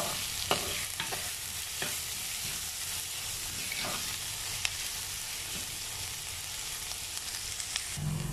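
Onions stirred and sautéing in a pan for a Kerala prawn curry, a steady close sizzle with occasional scraping strokes of a spoon against the pan, continuous and alone without talk.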